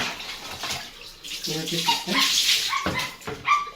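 Water pours and splashes steadily at close range over a German Shepherd puppy being bathed, while it whimpers and yelps now and then.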